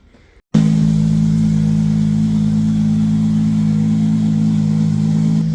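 A Toyota 2JZ VVTi turbo engine fires up for its first start and settles into a steady, loud, close-up idle with a deep, even drone that continues unbroken after the quick catch.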